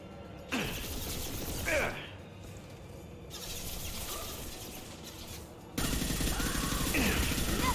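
Gunfire in Mass Effect 2, bursts of rapid automatic shots and mechanical weapon clatter, loud and close, with voices talking over the fighting.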